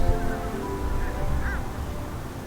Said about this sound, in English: Look how many birds!